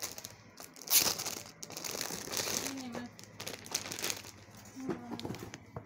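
Plastic bag crinkling while a BHS sarong is unboxed, close rustling and crackling in uneven bursts with a louder crunch near the start, and people talking throughout.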